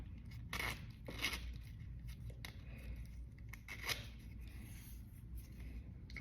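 Fabric coin purse with a zipper being unzipped open, a few short scratchy rasps near the start and around four seconds over quiet handling noise, close and soft.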